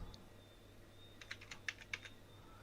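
Typing on a computer keyboard, a short burst of quiet, close keystrokes in an irregular rhythm with a lone click just before, over a faint steady room hum, no voices.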